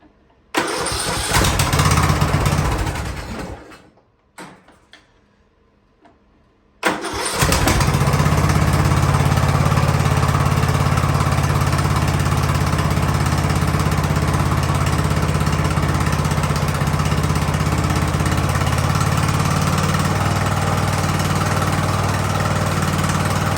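An Ariens riding lawnmower engine cranks and sputters, drops out for a few seconds, then catches and settles into a loud, steady idle that carries on to the end, close up.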